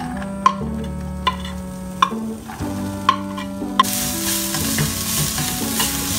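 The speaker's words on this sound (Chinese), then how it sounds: "我们下洋葱，" Onions go into hot oil in a pan and are stirred, with spatula taps on the pan, before a loud, steady sizzle swells up and continues to the end.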